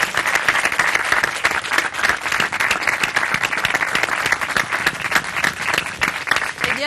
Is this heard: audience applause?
yes